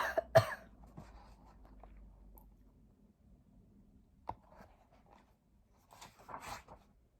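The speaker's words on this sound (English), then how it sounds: "please pardon my cough" A person reading a children's story aloud voices a character's cough: one sharp cough right at the start with a softer follow-up, then near quiet with faint handling noises.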